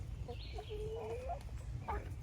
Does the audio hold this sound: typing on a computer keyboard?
no